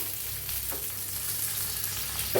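Cumin seeds frying in hot oil in a pan, a steady close sizzle with soft crackling and a brief stirring scrape near the end.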